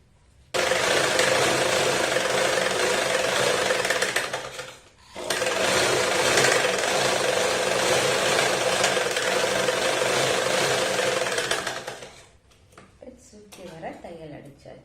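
Rapid, steady whir of a sewing machine stitching around the edge of fabric, running in two long bursts with a brief pause between them, followed by quieter handling sounds at the end.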